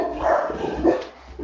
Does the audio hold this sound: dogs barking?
yes